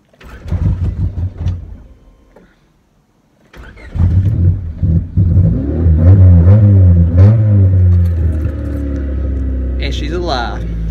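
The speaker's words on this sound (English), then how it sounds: "So now we're gonna try to start it up." An old car engine cranks, falls silent briefly, then catches and runs, revving up and down in a loud, close rumble before settling into a steady idle, with a voice heard over it.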